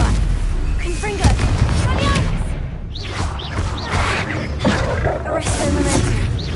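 A Confringo fire-spell blast in the video game Hogwarts Legacy, a booming burst amid a dense, continuous roar of battle noise with whooshing spell effects and voices layered over it.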